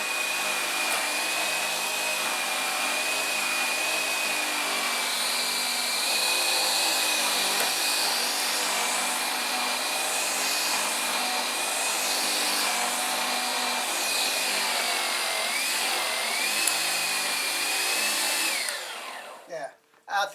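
A used Gtech AirRAM Mk2 cordless vacuum cleaner runs continuously at close range with a loud, steady whine and airy rush that shifts slightly in pitch as it moves, then cuts off at the end; no one speaks.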